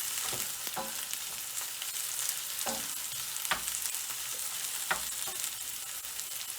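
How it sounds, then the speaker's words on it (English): Onions and scallions frying in a pan while cooking Jamaican-style jack mackerel in tomato sauce: a steady close sizzle with occasional sharp pops and crackles throughout. "So my onions and scallions are caramelizing a little"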